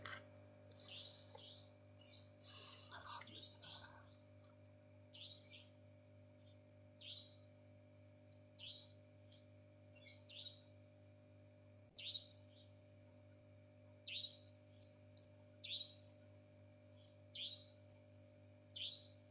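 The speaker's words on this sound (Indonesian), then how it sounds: "ada burung bunyi kayak gini." Repeated short chirping bird calls, bright and fairly distant, spaced irregularly over a steady low electrical hum.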